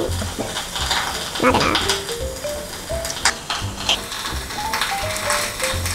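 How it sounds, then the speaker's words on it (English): Tofu sizzles and crackles steadily in a hot pan while camp cooking, with clinking utensil scrapes and stirring on top and a brief spoken remark. "Fry tofu."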